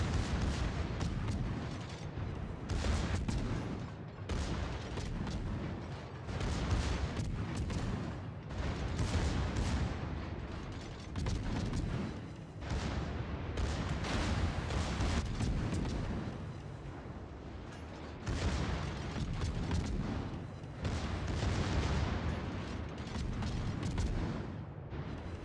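Main guns of the destroyer Farragut firing in a naval combat game, loud repeated booming salvos in a steady rhythm across the whole stretch, with mechanical creaks between shots.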